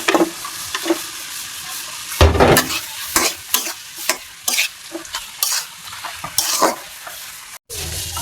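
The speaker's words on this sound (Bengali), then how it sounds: "মশলাটা কষানো হয়ে গেছে, এখন এটার মধ্যে ডিমগুলো দিয়ে দিচ্ছি।" Eggs go into a pan of spicy Bengali masala for egg bhuna, frying with a close, steady sizzle while a spoon scrapes and stirs in repeated strokes, with occasional louder clatters against the pan and no talking.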